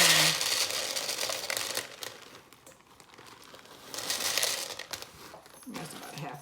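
Plastic crinkles and rustles close by as a bag of rice is handled and torn open, in uneven bursts with a quieter stretch in the middle.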